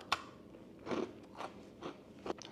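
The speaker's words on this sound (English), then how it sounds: "It's very crunchy. It just tastes like a giant biscuit." A hard, crunchy South African rusk, a dry twice-baked biscuit, bitten and chewed up close: one sharp bite crack followed by several dry crunching chews in an uneven rhythm, with no talk.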